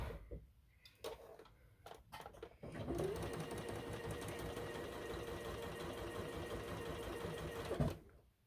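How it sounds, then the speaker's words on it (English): A sewing machine stitches buttons onto small snowman quilt block pieces, starting with a few short bursts, then running steadily and close for about five seconds before stopping. "So I'm going to sew my buttons to their little pieces here."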